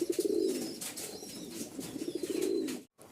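Rajshahi colour-matching Giribaz pigeons coo in a low, rolling burble that repeats steadily at close range, broken by a brief silence near the end.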